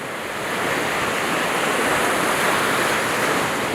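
Sea waves rolling onto Hwajinpo Beach on the East Sea coast at Goseong, Gangwon, a steady broad roar of surf that swells slightly and holds loud and continuous, with no voices.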